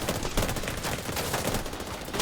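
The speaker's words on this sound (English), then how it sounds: "Laying down suppressing fire." Dense rapid gunfire in a video game, overlapping automatic bursts laying down suppressing fire, loud and continuous with no talk.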